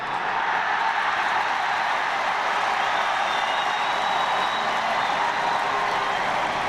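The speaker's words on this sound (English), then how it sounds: "Listen to the cheer as Waterford are declared Munster Hurling Champions for the 9th time" Large stadium crowd at Semple Stadium cheering Waterford's win in the 2010 Munster Hurling Final replay against Cork, a dense, sustained roar with mixed applause, steady and loud for the whole stretch, heard from a distance without talk.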